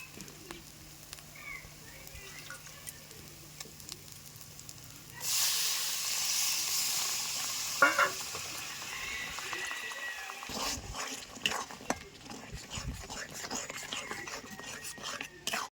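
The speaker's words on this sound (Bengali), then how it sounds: "এবার এই মাছ দিয়ে আর সামান্য পরিমাণে একটু জল দেব আমি, দিয়ে সুন্দর করে আলুর সঙ্গে মিশিয়ে নেব।" Fish goes into potatoes frying in a pan for a curry, with a little water added. A quiet stretch gives way to a sudden loud sizzle, followed by stirring and scraping in the pan.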